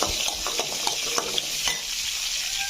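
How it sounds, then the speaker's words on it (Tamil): Onions sauté in a pan for egg gravy, a steady close sizzle with light stirring scrapes and taps, fairly loud and without talk. "கலர் மாறின வரைக்கும் நம்ம வதக்கிட்டு அப்புறம் தக்காளி ஆட் பண்ணிக்கலாம்."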